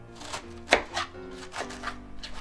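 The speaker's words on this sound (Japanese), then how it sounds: "こんな感じでですね千切りしていきましょう。" A knife shredding cabbage on a cutting board for homemade croquettes, a few crisp separate chops with one sharp louder stroke, close and alone without talk.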